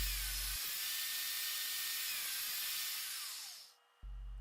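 A table saw with its blade raised just over an inch cuts dados into a wooden block. A loud, steady whine and hiss lasts about three and a half seconds, then spins down. A low motor hum is heard before and after.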